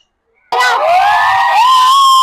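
A loud crowd of zoo visitors shouts and screams at the tiger enclosure of Mumbai Zoo, bursting in suddenly after a brief near-silence and holding steady and close.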